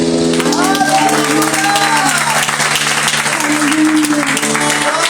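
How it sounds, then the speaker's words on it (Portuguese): A conference crowd at a Christian mission gathering applauds loudly, the clapping blending with sustained singing or held musical tones and some voices over it. "Aplauda ele"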